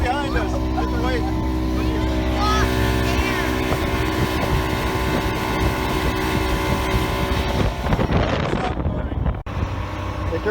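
A 1978 Vanguard motorboat, on its first run in two years, drones steadily on the water with a loud engine hum and wind buffeting, while people talk over it.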